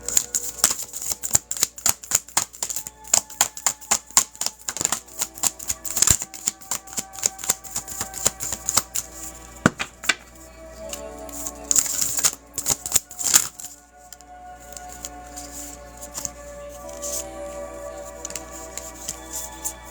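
Tarot cards being shuffled by hand, a long run of crisp riffling clicks and flutters in quick irregular bursts, close to the microphone, with brief pauses and a faint tonal hum behind them.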